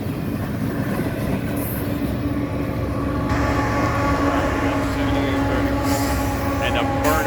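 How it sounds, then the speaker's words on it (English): A maintenance-of-way train rolls past near Blair and Fremont, Nebraska, with a steady rumble of wheels and rail noise, a brief squeal, and faint voices underneath. "Here's two more pieces of maintenance way train"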